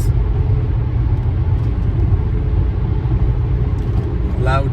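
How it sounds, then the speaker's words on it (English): Loud highway traffic rushes past close by, a dense continuous low roar of vehicles with a person speaking over it. "loud traffic passing me because I chose to use the highway today."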